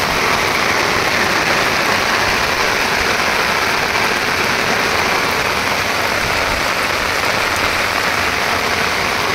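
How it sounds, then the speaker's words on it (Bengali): Heavy rain pours steadily on a Ganges riverbank in Nadia where anglers sit fishing, a dense, constant hiss of drops on surfaces with no let-up throughout. "পাক্কা 1 ঘন্টা বৃষ্টি হচ্ছে, এখনো বৃষ্টি কোনো ছাড়ার কোনো ভাবনা চিন্তা কোনো কিছুই নেই।"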